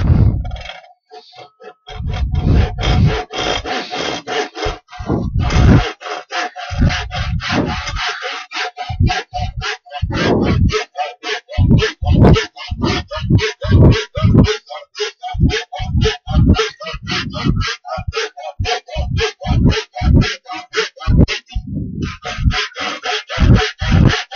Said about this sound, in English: rasp that and chisel away wood